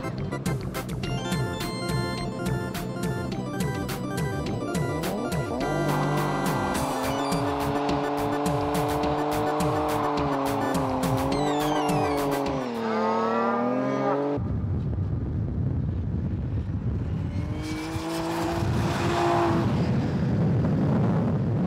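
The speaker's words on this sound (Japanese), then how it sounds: "派手なバーンアウトもお手のものだ" A Toyota Supra making about 900 hp does a burnout, its engine revving hard and steady, rising and falling in pitch, with a sustained tire squeal. Loud and continuous throughout, with no voices.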